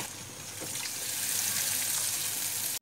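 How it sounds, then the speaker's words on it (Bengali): Water splashes steadily into a pan of papad curry seasoned with spice powder and salt, a close, continuous pouring rush lasting a few seconds with no talking. "দিয়ে এতে আমি একটু অল্প জল দিয়ে দেবো"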